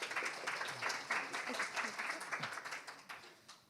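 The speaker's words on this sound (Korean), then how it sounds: "큰 박수 부탁드립니다" Applause from a conference audience welcoming a presenter from a Korean foundation, moderate and somewhat distant, with irregular bursts of clapping that thin out toward the end.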